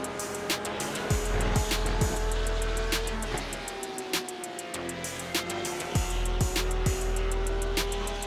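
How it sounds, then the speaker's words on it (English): Corvette race car at Watkins Glen, its engine note rising and falling through gear changes, mixed with other cars passing and brief tire squeal, loud and continuous with no talking. "I'm just not a fan of the sound that Corvette makes."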